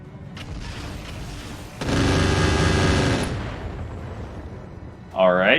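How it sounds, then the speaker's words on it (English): Weapons fire in the Roguetech BattleTech mod, a steady buzzing barrage that swells loudly for about a second and a half, then fades into rumbling background before a sharp new burst at the end. "they're shooting some kind of weird illumination thunderbolts"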